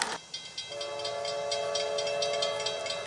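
A northbound Amtrak passenger train rolls past close by, wheels clicking rhythmically over rail joints under a sustained tonal whine, loud and steady after a brief lead-in.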